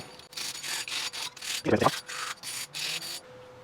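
A worn brake hub surface on an MG3 is scrubbed in repeated back-and-forth strokes, about eight rhythmic rasping passes with a brief knock in the middle, close and fairly loud.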